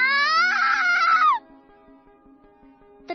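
A woman's sudden high-pitched scream with a wavering pitch, loud and close, breaking off after about a second, then a quiet stretch before another sharp cry begins.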